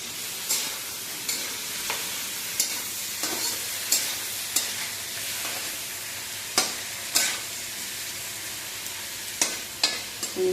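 Whole cinnamon and cloves crackle in hot oil while a spoon stirs the pan, with steady close sizzling and a run of sharp clicks and scrapes at irregular intervals, no voices.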